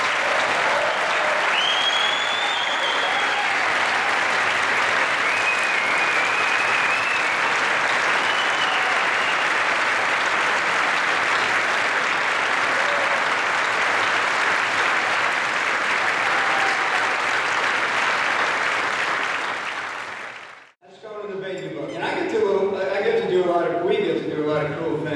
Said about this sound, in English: give one more rousing round of applause for Chris Christopherson